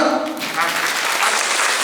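Applause from a concert audience greeting a guitarist, a steady dense wash of clapping sustained close and loud throughout with no one speaking over it.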